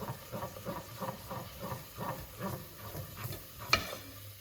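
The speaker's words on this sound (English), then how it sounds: "Now, I'm just going to slowly add and stir." Milk being slowly stirred into a pan for Ligurian pasta gives a soft, rhythmic scraping and swishing with a faint steady simmer underneath and one brief clink near the end.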